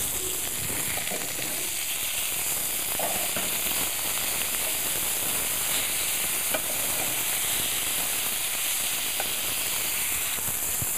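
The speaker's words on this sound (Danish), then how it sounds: "Så skal de stege" Beef patties sizzle in a hot frying pan, a continuous bright crackling hiss with occasional sharper pops, close and steady throughout with no talking.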